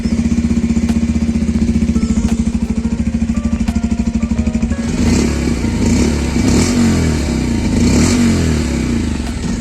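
A 2023 Bajaj Pulsar 125 motorcycle idles with a steady, close, loud exhaust thrum, then revs up partway through, the note rising and rasping with some clatter, no voices.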